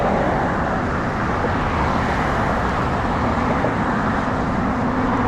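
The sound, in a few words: road traffic passing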